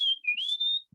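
A person whistles to imitate the call of a weebill: a brief, clear, high whistle that dips and then rises into a sustained note, close and alone.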